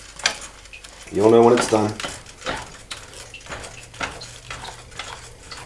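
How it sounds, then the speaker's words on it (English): Scrambled eggs stirred in a pan with a utensil, soft scraping and light sizzle running through the clip, broken up by a person talking over the cooking. "Keep stirring. Keep stirring. Keep stirring."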